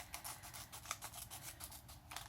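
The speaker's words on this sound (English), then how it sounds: "I think I want to trim a little more off" Scissors snip through paper for a shaker pocket craft beside a ribbon, a steady run of quiet, close crisp cuts and rubbing with no talking.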